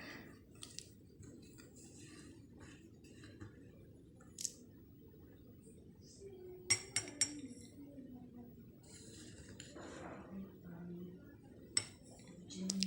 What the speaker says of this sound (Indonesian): kita akan memasukkan 1 sampai dengan 2 sendok makan garam ke dalam salah satu gelas yang